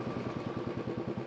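A motorcycle with failed brakes rolling downhill on engine braking, its engine giving a steady, fast low throb with rhythmic pulsing, close and moderately quiet throughout.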